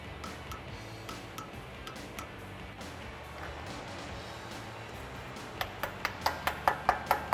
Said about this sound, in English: I use a pry bar in between the lug studs and then put my torque wrench on and click it to 35.